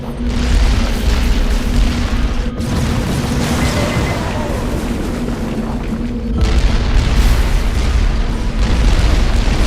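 A rocket launch explosion in the video game Halo Wars, heavy booming blasts and rumble filling the scene, with a sharp break partway through before the roar resumes, and voice lines faintly underneath.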